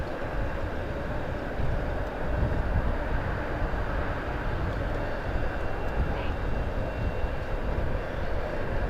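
Aircraft engine at Southend Airport, a steady broadband roar heard from a distance that holds constant throughout without clear peaks, with no talking in the clip.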